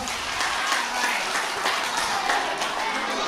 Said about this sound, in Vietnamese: cho chàng vỗ tay thật lớn lên nữa coi